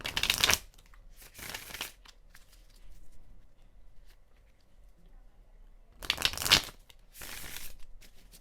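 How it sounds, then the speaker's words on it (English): Playing cards are shuffled in several quick riffling bursts, with a pause of quiet handling between the first pair and the last pair. "let's do a little shuffle here with this deck"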